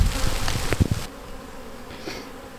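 Honey bees from a swarm buzzing around a hive in the rain, a close, dense hum that is strongest in the first second and then thins to a fainter drone.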